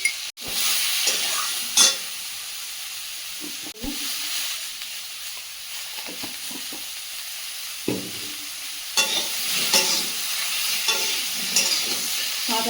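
Vegetable curry with salt and green chillies sautéing in a pan, a steady sizzle and hiss with intermittent scraping stirs and occasional clinks of the spoon against the pan throughout.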